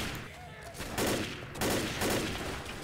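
Gunfire in the zombie shooter Left 4 Dead, a few quick bursts of shots spaced about half a second apart, fairly faint under game ambience, with voices faintly present.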